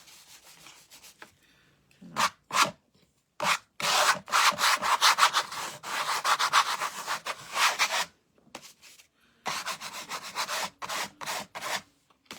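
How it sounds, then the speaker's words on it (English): A scraper dragging orange paint across a pumpkin painting, making repeated rough rasping scrapes in short bursts and longer sweeps with brief silences between, close and fairly loud. "You could even take that scraper again. Scrape in a little more color back here."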